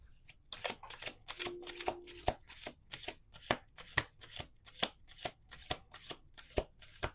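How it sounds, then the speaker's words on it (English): A deck of playing cards is shuffled close up in a quick run of crisp riffling flutters and sharp taps, repeated rhythmically with no voices. "One last shuffle."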